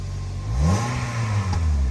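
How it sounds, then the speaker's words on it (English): A Toyota Corolla engine with a cylinder 3 misfire is revved up from idle, a smooth steady rise and fall of engine tone heard up close at the exhaust with no voices. "Abs, give it a little rev, will ya?"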